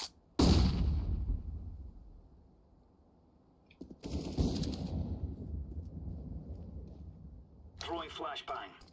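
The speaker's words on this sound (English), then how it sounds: "Throwing flashbang." In a video game, a flashbang grenade goes off with a sharp, loud blast followed by a ringing, muffled decay; a second burst comes partway through, and a voice speaks near the end.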